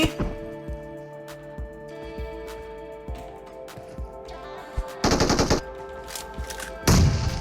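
Gunfire in the mobile game PUBG Mobile, with single shots and bursts of automatic fire that grow louder and denser toward the end over a steady game hum.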